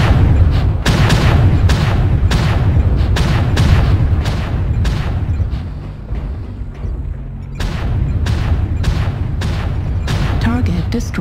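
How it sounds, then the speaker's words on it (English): Heavy artillery strike explosions in a video game, deep booming blasts and rumbling impacts pounding almost continuously at close range, with a short quieter lull midway. "New target acquired. Artillery strike online."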